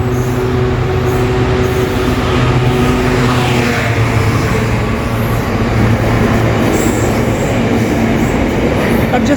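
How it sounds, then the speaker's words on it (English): A freight train rumbles past close by, a loud, steady roar of wheels on rails with rhythmic clatter and faint metallic squeals throughout. "freight train?"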